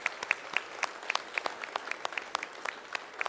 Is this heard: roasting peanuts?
no